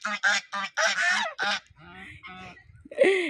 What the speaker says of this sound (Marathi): बदक आहे छोटे छोटे